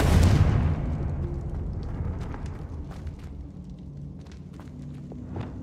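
A Confringo blasting spell in Hogwarts Legacy explodes with a loud, sharp boom at the start, then decays into a rumbling tail scattered with small crackles and debris-like ticks, no talk.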